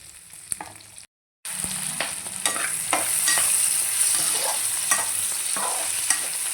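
Onions for a Tamil Nadu-style tomato chutney roasting in a pan, with steady frying sizzle and repeated scraping stirs close by, broken by one brief gap of silence.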